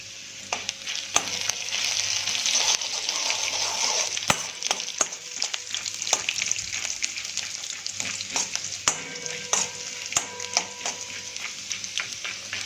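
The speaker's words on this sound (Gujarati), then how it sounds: "આદુ એડ કરી દઈશું ત્યારબાદ સમારેલું ગાજર આપણે આની અંદર એડ કરી દઈશું એકવાર આપણે આને હલાવી દઈશું" Ginger and chopped carrot are stirred in a hot pan for quinoa upma, with soft sizzling under repeated sharp scraping knocks of a spoon against the pan throughout.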